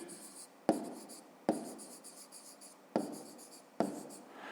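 A pen writes on paper at close range in short, scratchy bursts, four or five strokes with brief pauses between them.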